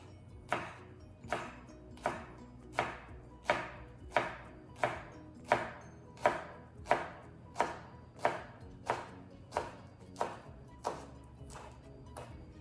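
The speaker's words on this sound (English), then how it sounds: "roll it like a little cigar, and slice." A knife slicing rolled basil leaves into chiffonade on a cutting board, about sixteen crisp, evenly spaced chops in a steady rhythm, close and fairly quiet with no talk.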